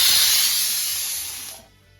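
A pressure cooker of carrot halwa on a kitchen stove lets out a loud, sustained hiss of escaping steam that fades away after a couple of seconds.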